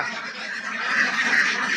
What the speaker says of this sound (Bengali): এত সুন্দর হাঁস